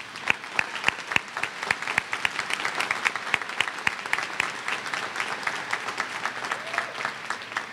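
Loud, sustained applause from a large crowd honoring graduates at a 2012 community college commencement, with sharp individual claps standing out over a continuous roar of hands.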